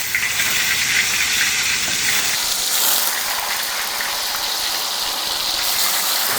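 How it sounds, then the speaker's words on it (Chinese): Tofu pieces dropped into a hot pan with oil after scallions have been fried, giving a loud, steady hiss of sizzling that carries on without a break from start to finish. "现在接下来下入豆腐"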